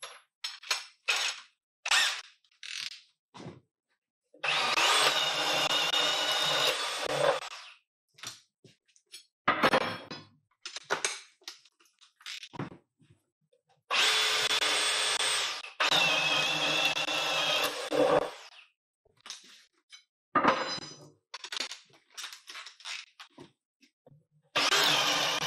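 A Wurth Speed auger bit, 26 mm, is driven into wood by a power drill: several long, loud whirring bursts of boring alternate with short trigger blips and quiet gaps.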